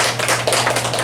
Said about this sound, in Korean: 이 여름성경학교를 통해서 영광 받으신 그 하나님께 우리 한번 박수 한번 할까요?